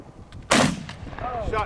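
A single loud shotgun blast is fired at a clay target during an outdoor trap shoot, a sharp close report that decays quickly, followed by faint background voices.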